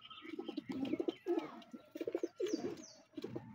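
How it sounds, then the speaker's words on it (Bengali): A Bombay pigeon feeding its chick gives repeated soft, throaty coos in short rhythmic bursts, close by, with a few faint higher chirps mixed in. "আমার বোম্বাই কবুতরটা তার বাচ্চাটাকে খাবার খাওয়াইতেছে"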